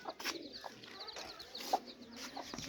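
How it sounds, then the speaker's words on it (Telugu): Small birds peep and chirp in quick, high bursts, quiet and scattered, with occasional soft clucks in the background. "చూడండి కోడి పిల్లలు చాలా అందంగా ఉన్నాయి కదా"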